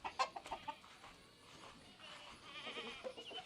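Chickens clucking softly nearby on a farm with goats around, a few quick, faint clucks and scratchy calls at a low level.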